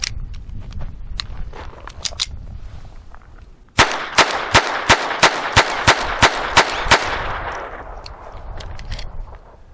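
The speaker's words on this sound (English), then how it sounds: "So let's go ahead and try 10 rounds." A Phoenix Arms HP22A pistol fires ten rounds of Federal Auto Match .22 in a quick, even string of sharp, loud cracks, close by and spaced about a third of a second apart, after some quieter handling clicks.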